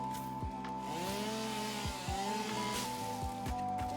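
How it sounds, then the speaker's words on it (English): A chainsaw runs steadily and loudly throughout, its droning engine tone rising and falling in pitch with a few sharp bursts of revving. "I'm so annoyed by the sound of this chainsaw"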